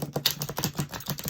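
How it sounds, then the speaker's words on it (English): Tarot cards being shuffled vigorously, a rapid run of crisp riffling clicks and paper flutters close up, steady and continuous without any talk. "Sometimes you just need to shuffle the heck out of the cards."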